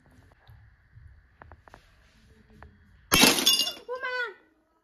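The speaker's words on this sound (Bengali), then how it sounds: "ডিমটা তুলে তুলে রাখতে গিয়ে প্লেটটা পুরো ফেটে গেল" A ceramic plate cracking with a sharp, bright shattering burst while eggs are lifted onto it in a kitchen, following quiet clatter and soft background noise.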